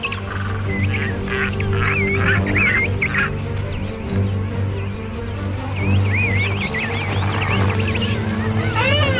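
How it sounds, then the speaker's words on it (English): A dense colony of king penguins in the Antarctic region calls continuously, with many overlapping trumpeting, warbling adult calls near and far over a steady low din of the crowded birds. "Finally home, each adult calls their chick."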